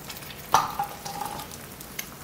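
Fried eggs sizzle in a pan, a soft steady crackle with a few sharper pops, fairly quiet and close, with no voices.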